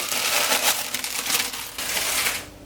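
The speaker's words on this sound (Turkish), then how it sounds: "Üstündeki poşeti kaldırıyorum" Plastic wrap is peeled off a chilled cream for a homemade velvet-style dessert, giving a steady, close crinkling and rustling that lasts a few seconds with no talk.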